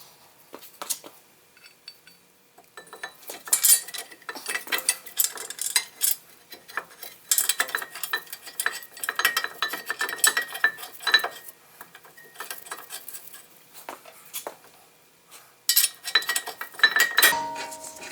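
Metallic clinks and taps from installing a brake caliper bracket and its bolts on a 2015 Ford Escape Titanium 4WD front brake. Irregular close-up clatter, moderately loud, with quieter gaps between bursts.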